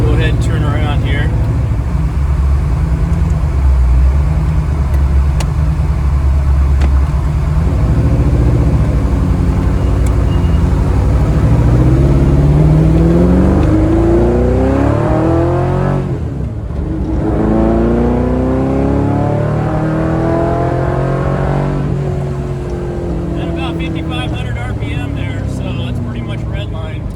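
A Lamborghini Diablo on a test drive after a transmission install: a close, loud engine drone rises and falls through gear changes and revs, with voices talking faintly at times.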